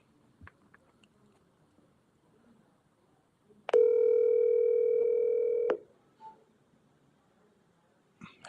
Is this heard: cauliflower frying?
no